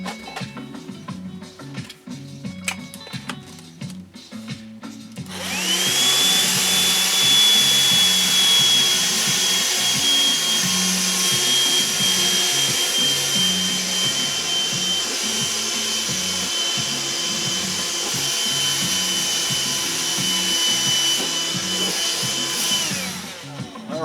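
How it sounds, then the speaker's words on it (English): A small vacuum cleaner starts up after some rustling of packing material and runs as a steady, loud whining roar while sucking up packing peanut fragments, with faint scraping and rattling of bits beneath the motor. "I'm going to grab my little vacuum cleaner and see if I can manage this."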